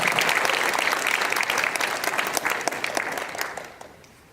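A church audience gives warm welcoming applause, dense clapping that holds steady, then thins into scattered claps and dies away near the end.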